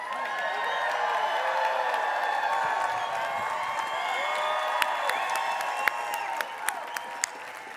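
An audience claps together for a life-shifting insight at a Growth Day personal development event, a dense, steady round of applause lasting several seconds, with a few louder individual claps near the end.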